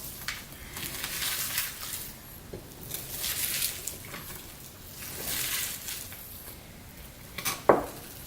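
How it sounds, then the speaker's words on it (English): Pastelle meat filling being mixed by hand in a bowl, with soft wet squishing, patting and occasional clinks against the bowl, steady and close, ending in a sharper knock. "Now I'll mix it up and then I will put it in the pot to cook it down"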